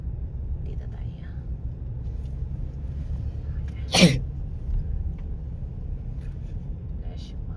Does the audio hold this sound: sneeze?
yes